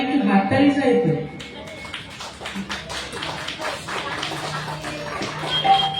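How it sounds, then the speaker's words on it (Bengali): An audience claps hands in a burst of scattered applause that swells and fades over several seconds, mixed with room noise and some talking. "একদম এরকম হাততালি"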